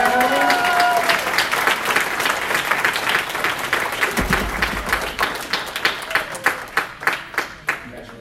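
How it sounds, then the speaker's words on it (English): A round of applause from an audience at a networking event, loud and dense at first, then thinning into separate, rhythmic claps toward the end, with voices and cheers mixed in. "Take a round of applause, everyone."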